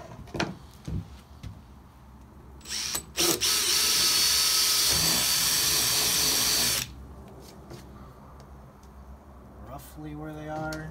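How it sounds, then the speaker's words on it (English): A power drill whirs loudly for a few seconds in one sustained burst, with brief clicks and handling noises before and after. "Now I'm just gonna drill the holes, the mounting holes."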